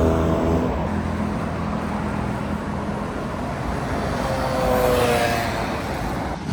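Traffic on a wide city road in Kyoto, a continuous rumble of passing cars and engines with a louder vehicle swelling by near the end, steady and fairly close.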